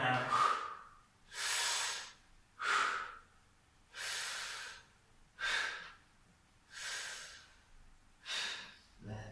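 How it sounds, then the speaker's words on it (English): Heavy, forceful breaths during a barbell bench press, with about eight rhythmic inhales and exhales alternating steadily, close and fairly loud, some with a snorting edge. "You breathe in and out."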